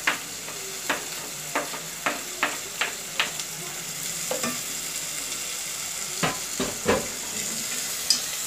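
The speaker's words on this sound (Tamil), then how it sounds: "இந்த வெங்காய தக்காளி நல்லா வதங்கணும்" Onion and tomato sautéing in a pan, a soft steady sizzle under regular spoon scrapes and taps against the pan, about a dozen strokes in a loose rhythm, close up with no talk.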